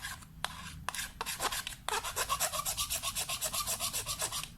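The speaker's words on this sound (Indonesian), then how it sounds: "Kemudian kita gosok-gosok. Kita gosok-gosok seperti ini sampai dia rata." A knife scrapes an HDPE plastic pipe in quick repeated strokes, a few separate scrapes first, then a steady rhythmic rasping, close and fairly loud.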